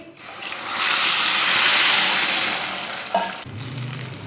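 Water pours into a hot pan for cooking vermicelli with a loud hissing sizzle that swells and then settles, ending with a brief clink.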